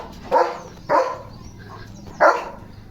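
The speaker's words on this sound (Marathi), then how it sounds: "याला भुंकल्याशिवाय जमतच नाही" A German Shepherd barks three times, loud and close, with single sharp barks spaced unevenly about half a second to over a second apart and no talking.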